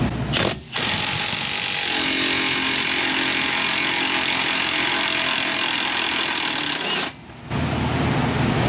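A Snap-On stubby socket works loose hot bolts seized with red threadlocker in a repair shop, giving a steady, loud mechanical whir and rattle that runs for about six seconds, with short gaps near the start and end.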